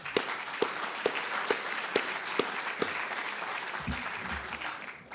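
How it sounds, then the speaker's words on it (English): Audience applause at a gala event, a broad wash of many hands clapping steadily for several seconds with a few sharper claps standing out early on, thinning slightly toward the end under a low murmur. "I'll give you a round of applause."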